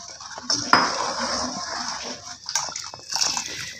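A spoon stirs firni in a pot, scraping and clinking against the metal in irregular bursts, moderately close, with faint background noise between the strokes.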